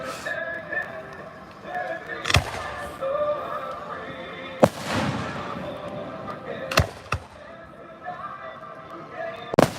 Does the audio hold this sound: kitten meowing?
no